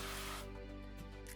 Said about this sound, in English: We're just gonna spray a little bit more cooking oil.